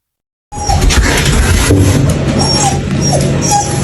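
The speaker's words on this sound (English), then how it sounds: "the house dog began to howl in a strange way, and it grew scared and restless" A house dog whimpering and yipping in a strained, uneasy way, with thin whining cries over a noisy, muffled background that fills most of the few seconds after a silent start.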